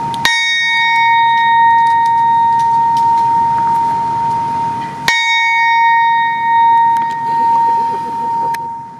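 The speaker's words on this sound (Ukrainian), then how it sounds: "У Франківську пролунав дзвін пам'яті за загиблими у російсько-українській війні військовослужбовцями" A memorial bell in Ivano-Frankivsk tolls for fallen soldiers with two loud, clear strikes about five seconds apart. Each rings with a long humming decay over faint traffic noise.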